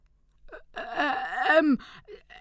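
Someone narrator's voice imitating the labored panting of a fat pale-pink pig, a short breathy gasp and then a drawn-out wheezing, groaning exhale, close and alone.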